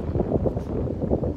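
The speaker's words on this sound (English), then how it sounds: "And that's where the wind's coming from" Steady outdoor wind gusting at Lake Havasu City under cloudy, stormy skies, a continuous low rumbling buffet across the microphone with no voices.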